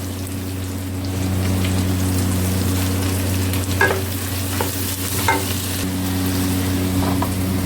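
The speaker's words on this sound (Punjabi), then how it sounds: "ਲੋ ਜੀ ਭਿੰਡੀਆਂ ਆਪਣੀਆਂ ਭੁੰਨ ਚੁੱਕੀਆਂ ਨੇ" Okra (bhindi) with green chili fries in a pan, a steady loud sizzle running throughout, with a few sharp scraping stirs of the spatula near the end and no talking.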